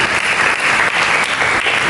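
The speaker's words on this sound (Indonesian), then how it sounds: "Mari kita berikan tepuk tangan bagi Yesus." A church congregation applauds loudly and steadily, a dense wash of many hands clapping together throughout.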